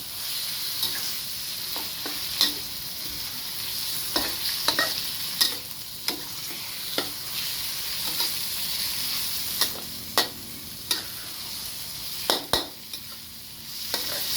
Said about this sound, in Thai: ตามด้วยเครื่องในไก่ครับ ตัวชูโรงของเรา ผัดเข้าไปครับ